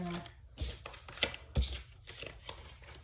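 Papery riffling and soft slaps of tarot cards being shuffled in bursts, with irregular taps and brushes close by.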